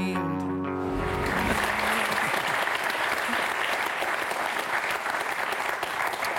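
Sustained studio audience applause fills the room, a dense even wash of clapping after a brief fading musical phrase at the start, loud and steady throughout.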